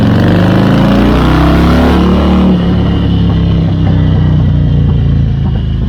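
A motorcycle engine refitted with its original exhaust headers runs loud and close, revving hard and then settling into a steady, quieter throb.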